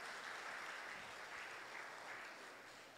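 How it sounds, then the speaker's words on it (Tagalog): A church congregation claps during a Sunday service, a soft, steady patter of many hands heard from some distance in a large room, continuous and fairly faint with no talking. "Pumalakpak na ho yung lahat ng excited."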